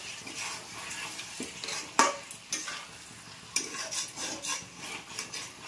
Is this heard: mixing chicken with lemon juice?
yes